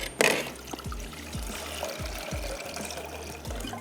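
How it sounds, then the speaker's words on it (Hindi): Water pours into a saucepan in a kitchen, a soft continuous trickle and splash at moderate distance with a brief louder clatter at the start. "यहाँ से ले लेते हैं एक अदद सॉस पैन और मैं इसमें ऐड कर देती हूँ पानी"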